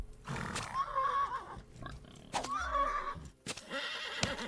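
A horse neighs twice in quick succession in the video game Mortal Online 2, shrill whinnies with a faint clatter of movement around them, fairly close.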